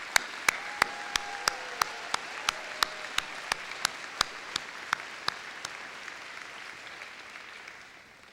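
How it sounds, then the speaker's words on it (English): Audience applause at a 2017 university morning convocation, honouring faculty and staff: a broad, steady wash of clapping from a large hall crowd, lasting several seconds and fading toward the end, with faint regular clicks running through it. "Let us give them a round of applause."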